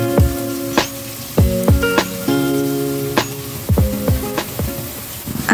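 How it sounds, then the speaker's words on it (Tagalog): Ginger sizzling in a frying pan while being stirred, a steady loud hiss broken by repeated sharp scrapes and clacks of the utensil against the pan, close up with no talking. "At isunod na rin natin yung luya. Haluin lang natin hanggang sa mag-brown ang mga ito."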